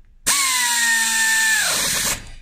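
A Parkside air ratchet runs in one steady, loud burst of about two seconds while tightening a bolt, its whine dropping slightly as it stops, with no talking.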